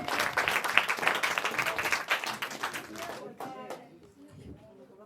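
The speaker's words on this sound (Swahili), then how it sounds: "ninaomba ukaweze kumpigia makofi akienda kutufungulia" Church crowd applauding as a cake is opened, dense clapping that fades after about three seconds into scattered claps with voices underneath.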